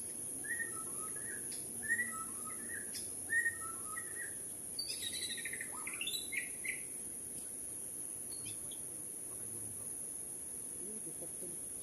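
White-crowned shama song outdoors: several short, clear whistled phrases repeat at a distance over a steady insect and cricket drone, with faint background sounds.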